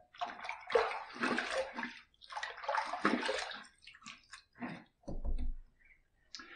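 A stainless steel injector razor is rinsed under running water during a shave, with irregular bursts of splashing and gurgling flow broken by brief pauses, close and fairly quiet.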